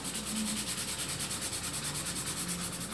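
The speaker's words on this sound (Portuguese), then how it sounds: "Ó, você vai passando a lixa," Hand sanding of a mini Montana pickup model with sandpaper, a steady, close, rhythmic rasping scrape repeating quickly with no talk.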